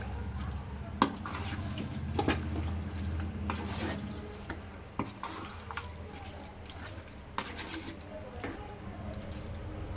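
Chicken fry masala is stirred with a glass of water in a bowl, making wet swishing and sharp clinks of a spoon against the side, scattered through ten seconds of close mixing.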